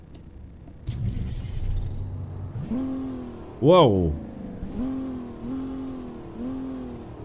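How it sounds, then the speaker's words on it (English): A modded custom Peterbilt truck engine in American Truck Simulator revs hard, rising to a sharp high-pitched roar, then settles into repeated throttle blips, with a brief exclaimed voice over it. "That's like a racing engine."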